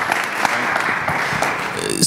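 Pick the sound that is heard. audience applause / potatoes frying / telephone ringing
audience applause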